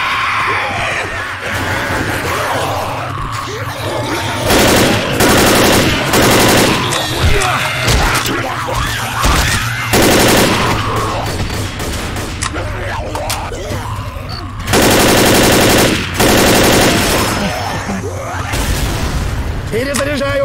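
Loud bursts of rapid gunfire and booms from the video game Left 4 Dead come in repeated stretches, broken by shouting voices and talk in Russian between the volleys.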